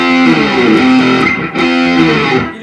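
Heavily distorted electric guitar strums bar chords, two sustained strums and then a higher one, loud, close and alone, ringing with a thick saturated tone.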